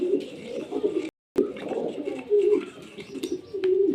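Pigeons cooing close by in a loft, soft low rolling coos repeating throughout with a brief dropout, no talk.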